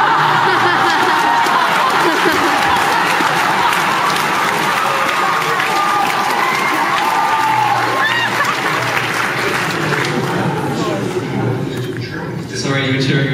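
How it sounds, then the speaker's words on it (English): A crowd at VidCon 2010 cheers and applauds loudly and steadily in a large hall, a dense wash of clapping and whoops with scattered laughter that lasts throughout and eases slightly near the end. "Sorry, you were cheering over that guy's question."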